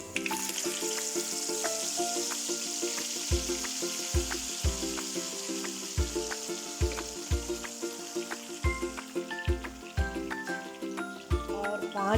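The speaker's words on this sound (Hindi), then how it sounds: "और 5 मिनट के लिए इसे भून लेती हूँ।" A paste of ginger, garlic, onion, green chili and tomato frying in hot oil gives a loud, steady sizzle throughout, with regular low knocks of stirring and faint tones in the background.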